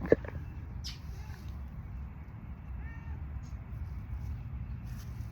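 A cat in a garden gives a few faint, brief meows over quiet outdoor background noise.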